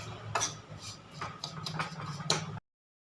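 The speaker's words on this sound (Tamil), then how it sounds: "எல்லாத்தோட அந்த மாவோட இந்த தேங்காய், பேரிச்சப்பழம் எல்லாமே ஒன்றா மிக்ஸ் ஆகிற அளவுக்கு நல்லா மிக்ஸ் பண்ணிக்கலாம்." Flour, grated coconut and chopped dates mixed together in a bowl, giving soft scraping and a few light clinks of a spoon against the bowl over about two and a half seconds.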